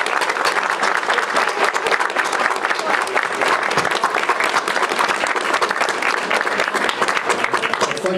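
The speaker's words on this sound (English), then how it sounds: "Let's just give them a clap." A crowd at an East Clare Co-op celebration applauds for several seconds, dense, even clapping with light cheering mixed in, fairly close and filling the room.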